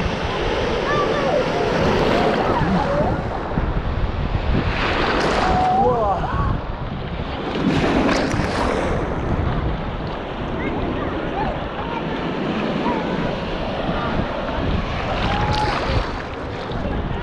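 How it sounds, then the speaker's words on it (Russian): Surf waves on the Gulf of Finland wash steadily along the shore with a few louder breaking surges, under heavy wind buffeting on the microphone. "можно вот тот прибой посмотреть, там круче, вот они начинают пузыриться там"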